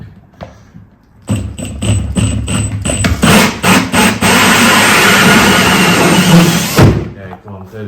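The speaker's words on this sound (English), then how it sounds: "Just let the drill do the work" A power drill runs in several short bursts while drilling for a downlight installation, before settling into a long continuous whine, then stops, with clunks at the start.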